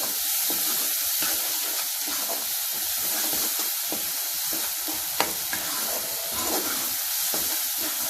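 Ginger garlic paste frying in a pan for a mushroom curry, a loud continuous sizzle with crackling spits and occasional stirring scrapes, no voices over it.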